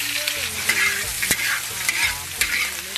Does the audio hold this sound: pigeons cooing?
no